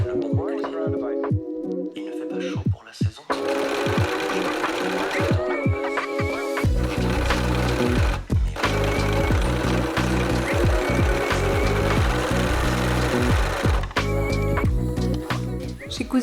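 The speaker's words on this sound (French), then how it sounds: "Et je vais le passer à la surjeteuse." A serger overlock machine sews fabric, easing slowly around a curved seam: a loud, steady mechanical whirring hum in sustained runs, with brief stops and restarts and no talk over it.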